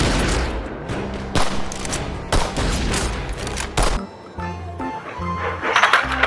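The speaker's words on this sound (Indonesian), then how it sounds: "di sini ada tembak nerfgun tarik teman-teman." A toy pull-action Nerf gun fires in several sharp, loud bursts close by, followed by quieter clicks and handling noises.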